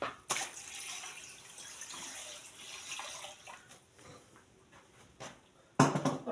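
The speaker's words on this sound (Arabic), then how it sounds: "غادي ندير فيه الماء" Water is poured into a cooking pot holding chicken, heard as a near, splashing stream that fades to scattered drips and clinks, then a brief loud burst of running water at the end.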